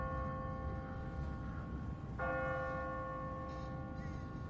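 A church bell on an automatic timer rings out at a distance, its metallic tone sounding once with a fresh strike midway and then lingering, over steady outdoor background noise with no talking.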